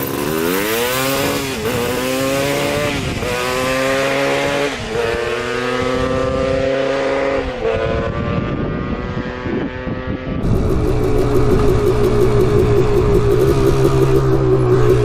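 A Honda TRX250R two-stroke ATV engine screams loudly up through the gears, each rising whine cutting off at a shift, ending in a harsh sustained high-rev buzz.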